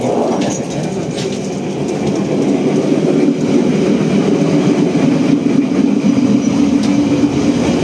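The Kahuripan economy passenger train in Indonesia rolls steadily along the rails, a continuous low rumble with faint clicking and rattling throughout, loud and close as if heard from inside.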